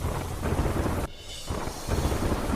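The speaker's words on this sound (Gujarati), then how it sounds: "દ્વારકાના ભાણવડ પંથકમાં ધોધમાર વરસાદ" Heavy downpour in Bhanvad, Dwarka, a loud, dense roar of rain with a rumbling, thunder-like wash that drops out briefly and then returns at full strength.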